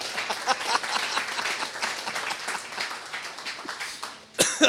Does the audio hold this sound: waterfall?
no